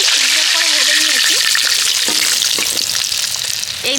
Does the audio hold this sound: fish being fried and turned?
yes